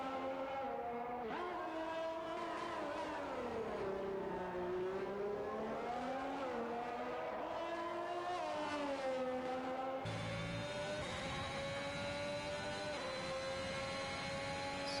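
Race cars in the video game F1 2021 at the Australia round give a steady, droning engine whine that rises and falls in pitch. A car passes close, and the engine note shifts abruptly partway through.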